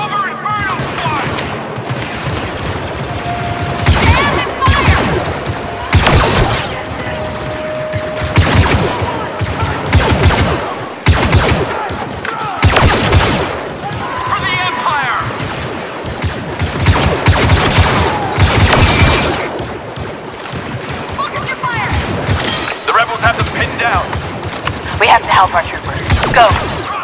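Blaster fire crackles in rapid, overlapping volleys during a Star Wars Battlefront 2 battle, loud and near, with voices and shouted commands heard among the shots.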